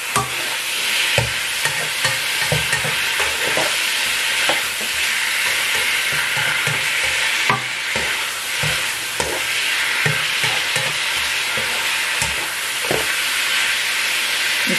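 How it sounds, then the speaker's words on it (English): Stir-fry with sauce being stirred and tossed in a hot pan, a steady loud sizzle throughout with repeated scraping and clacking of the utensil against the pan. "And then you just mix it all up."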